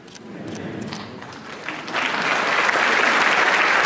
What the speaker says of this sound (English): Let's give a round of applause to all of our religious leaders as we build Aurora together.